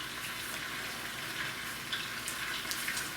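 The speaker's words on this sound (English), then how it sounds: "We're gonna put them in the crock pot as the meat it all sears" Beef sears in a pan while roast beef is prepared in a crock pot, giving a steady, close broadband sizzle and crackle with small pops throughout and no talking.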